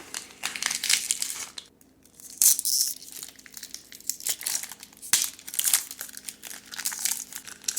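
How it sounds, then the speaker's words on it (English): Plastic wrap on a Swiss military MRE ration crinkles and crackles loudly up close as it is pulled open, in uneven bursts with brief quiet pauses between rustles. "Got a little plastic wrap."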